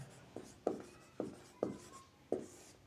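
Chalk or marker strokes on a board during a physics lesson come as five evenly spaced tapping scratches, close and quiet, with no talk over them.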